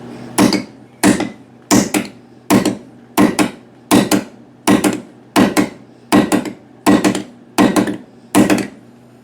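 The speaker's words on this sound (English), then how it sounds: "When things don't want to move, sometimes you get a bigger hammer, right?" Fourteen evenly spaced, loud hammer blows drive a wooden wedge into the head end of a handmade white oak axe handle, each strike sharp and close with a short ring.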